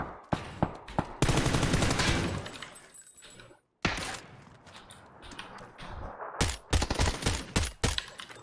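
Bursts of automatic gunfire and single shots in a tactical shooting video game, loud and close, with rapid rattling volleys, a brief pause, then more scattered cracks and glassy impacts.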